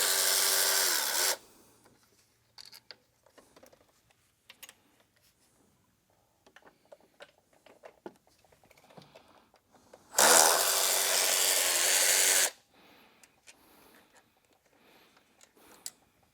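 A power tool whirs loud and close while removing bolts from a BMW M62TU engine, in two bursts of about one and two seconds, with quiet clinks and handling noises between them.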